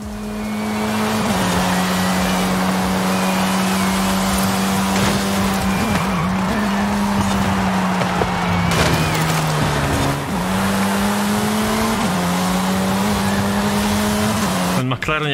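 A McLaren GT race car in a racing video game, its engine holding a loud steady drone through corners with brief dips and shifts, tire squeal, and someone talking over it.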